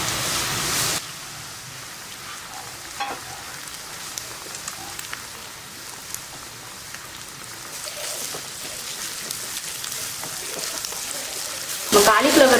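Cauliflower and egg fry together in a pan, a steady soft sizzle with faint crackles throughout and a louder burst at the start and end, under a little talking.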